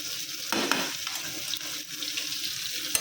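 Fish sizzles and crackles steadily in a frying pan, close and continuous, with a few light scrapes of stirring or turning mixed in.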